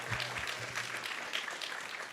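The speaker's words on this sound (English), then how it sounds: "So let's give her a big round of applause." An audience at a temple kirtan gathering claps in steady, dense applause, moderately loud and continuous with a faint low voice early on.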